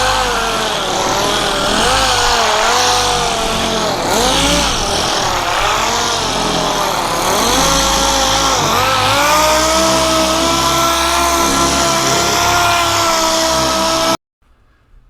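A dual action polisher buffs fresh car paint on a newly painted car, a steady loud motor whine with wavering pitch running continuously for about fourteen seconds before cutting off abruptly.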